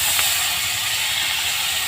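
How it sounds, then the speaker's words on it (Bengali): Diced potatoes frying in oil with black cumin and chillies, a dense, even hiss and sizzle close to the pan, steady throughout with no voices. "তো আলুগুলো আমি ভেজে নিচ্ছি একটু"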